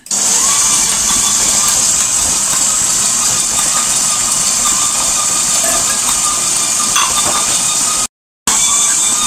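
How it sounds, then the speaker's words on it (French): An electric mixer runs at slow speed, beating pain de mie dough of flour, salt, water and milk, giving a loud, constant motor whine and hiss. The sound cuts out briefly near the end, with no speech. "On va commencer à démarrer le batteur au ralenti."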